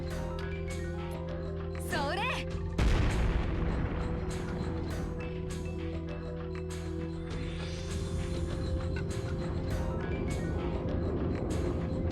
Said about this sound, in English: And then we're just gonna fucking lob a grenade at this bastard